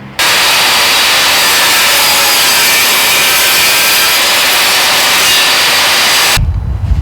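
A power tool bevels the edges of a wooden cutting board, giving a loud, steady broadband whine that runs unbroken for about six seconds, then cuts off abruptly with a low rumble left at the end.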